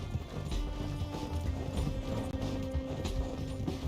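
Horse hooves clop in uneven rhythm in Red Dead Redemption 2, mixed with a faint whinny and a clunking impact, all fairly close over a busy game soundscape.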